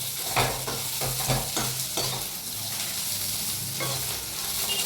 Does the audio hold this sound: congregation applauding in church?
no